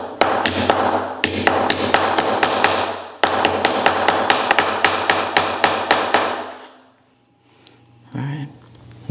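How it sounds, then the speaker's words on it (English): A nylon mallet hammers fine silver in a wooden dapping block with rapid, loud, evenly spaced taps in two long bursts. A short pause breaks the bursts, then a quieter stretch follows with a brief thud near the end. "I'm using just a simple nylon mallet, and we're just gonna hammer it out in this wooden dapping block"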